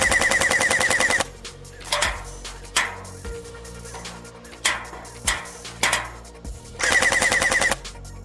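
A Yagee gel blaster fires gel balls at a 25-meter target, with two loud sustained bursts of rapid automatic fire and several separate sharp single shots between them, close and with no talking.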